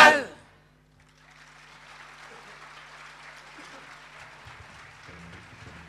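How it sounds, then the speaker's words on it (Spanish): An audience applauds after a murga troupe's stage performance, a soft, steady patter of clapping that settles in after a brief louder sound at the start and continues faintly to the end. "Muchísimas gracias a todos por sus aplausos"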